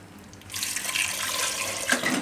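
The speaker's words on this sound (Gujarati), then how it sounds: "આમાં આપણે પાણી નાખી દેવું" Tap water pours into a pressure cooker holding raw banana pieces, a steady close splashing rush starting after a brief quiet moment and continuing alone.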